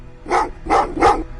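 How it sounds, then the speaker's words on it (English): Dogs in the video game Terminator Resistance bark three times in steady succession, each bark loud and close, with no voices over them. "What's with the dogs?"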